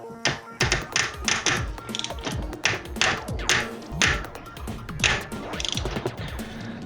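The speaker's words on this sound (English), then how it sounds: "Torque wrench has clicked." Sharp metallic taps and clicks ring out close by as a torque wrench works on a rear wheel nut, a series of quick, irregular knocks with no talking.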